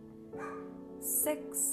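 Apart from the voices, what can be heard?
dog barking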